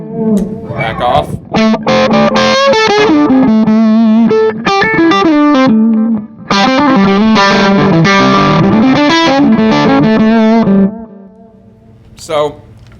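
Electric guitar played through a loud DG Custom 30 amp with heavy distortion and effects, ringing out in rhythmic strummed chords and bent notes for about eleven seconds before the sound drops away.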